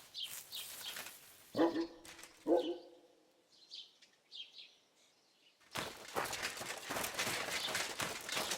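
A dog in Kingdom Come Deliverance 2 gives two sharp barks close by, followed by faint chirps and then a louder stretch of rustling game ambience.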